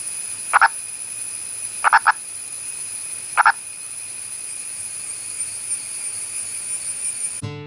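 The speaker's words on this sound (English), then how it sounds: "this male is demonstrating his mating call above ground" Male Indian purple frog giving its mating call above ground: three short croaking bursts, the first single and the later ones doubled, spaced apart over a steady background hiss.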